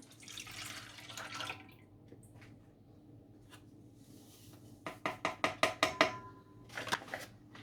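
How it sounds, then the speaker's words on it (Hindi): Milk, 200 ml, poured into dry cream powder for a strawberry custard trifle: a soft wet splash early on, then a quick run of close, distinct liquid drips and plops near the end, with no talking. "ये मिल्क 200 मिलीलीटर तो इसके अंदर डाल देते हैं 2 पैकेट के लिए"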